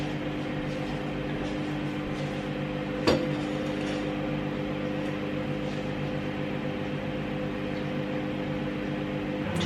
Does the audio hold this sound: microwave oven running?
yes